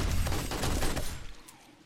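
Rapid gunfire in the survival game 7 Days to Die against a horde-night wave of female zombies, a loud dense burst of shots that tapers off near the end.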